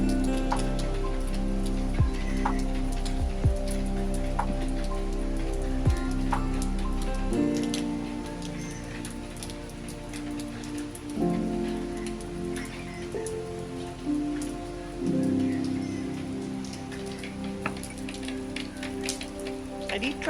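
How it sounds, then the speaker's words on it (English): A river flows past the rocky backyard of a hillside house in Meghalaya on a rainy day, making a steady, close, continuous hiss of rushing water with no voices over it. "there is a river, so you will hear the sound of the flow rushing"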